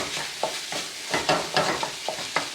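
Garlic and oyster sauce sizzling in a pan for ham fried rice, a steady fry under repeated scraping stir strokes at an uneven rhythm, close and moderately loud with no talk.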